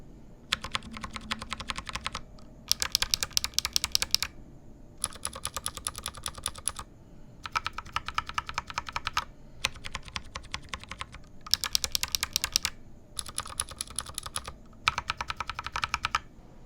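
Bursts of typing on a keyboard fitted with a mix of mechanical switches, keycaps installed: dense, rapid clacking in repeated runs of about one to two seconds separated by short pauses, close and clear with no talk.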